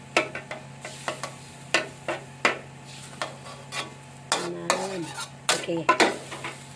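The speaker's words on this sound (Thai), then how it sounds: "นาดาขอตักกุ้งขึ้นก่อน" A metal utensil scrapes and clinks against a pan in a series of short strokes while scooping out shrimp, with a faint sizzle in the background.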